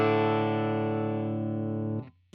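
Electric guitar played through a UAFX Dream 65 amp pedal in stock mode with clean boost: a single full chord rings out loud and sustained for about two seconds, then is abruptly muted, leaving a faint low hum.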